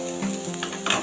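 A ginger, garlic and coconut paste fries in a pan with prawns, giving a brief, loud, continuous sizzle and a soft stir heard up close.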